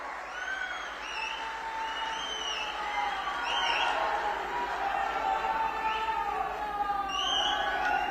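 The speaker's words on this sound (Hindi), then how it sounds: "राणे साहब आप जोर से ताली बजाइए राणे साहब के लिए" Crowd at a political rally in Ratnagiri clapping and cheering for Narayan Rane, a broad, sustained wash of applause from a large gathering, fairly distant and mixed with amplified speech.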